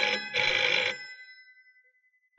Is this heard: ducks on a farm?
no